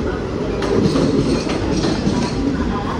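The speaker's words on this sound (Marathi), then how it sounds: "नंदीग्राम एक्सप्रेस चा अरायवल झालेला आहे इथे दादर रेल्वे स्टेशनवर." The Nandigram Express pulling into Dadar railway station, a loud, continuous rumble of rolling coaches with faint rhythmic wheel clatter, close by.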